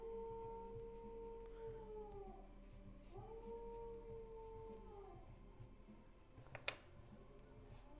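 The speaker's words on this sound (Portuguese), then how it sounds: "Acho que o meu cachorro pensa que ele é lobo, coitado. Tá uivando aí atrás." A dog howls like a wolf somewhere behind, faint and at a distance, drawing out three long wavering howls in steady succession, followed by a sharp tap close by near the end.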